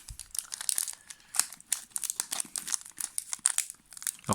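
A Pokémon card pack torn open and crinkled by hand: soft, close crackling and tearing of the foil wrapper in irregular bursts, fairly quiet, with no talk.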